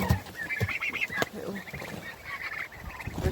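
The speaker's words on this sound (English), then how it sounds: "They're quite delicate actually, turkeys." Pet turkeys, noted as delicate birds that prefer to perch, give repeated raspy honking calls at moderate distance, rising and falling over a steady background.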